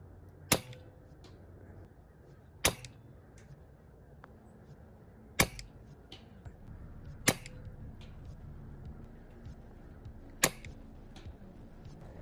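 Five sharp, fairly quiet shots from a Novritsch SSG-10 airsoft sniper rifle fired outdoors, spaced a few seconds apart over faint background noise.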